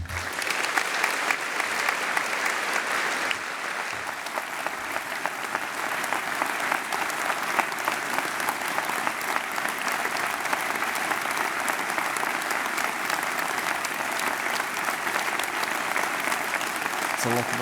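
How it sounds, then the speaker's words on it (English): Large audience at a winter university graduation ceremony giving a long, sustained round of applause for an honorary doctorate recipient, dense and steady clapping filling the hall without letting up. "That is one of the longest rounds of applause we've seen in our ceremonies since in my time."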